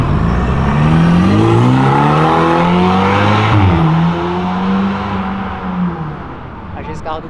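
A car revs and drives out of a car-show event in Brazil, engine tone rising and falling loud and close, with crowd noise and talk alongside.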